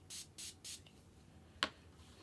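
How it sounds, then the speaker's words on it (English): Setting spray misted onto a tiny makeup detail brush: three short hissing bursts in quick succession, close and clear, followed by a brief sharp tap. "I'm gonna spray this tiny detail brush"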